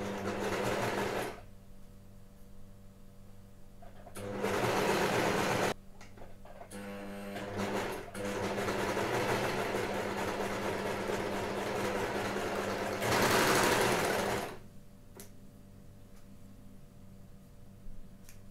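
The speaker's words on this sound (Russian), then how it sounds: "И сейчас мы будем прокладывать строчку на верлоке по длинному срезу." Overlock machine stitching a long edge of knit jersey for a sports top, running in several loud sustained bursts with steady mechanical whir, separated by quieter pauses with low hum.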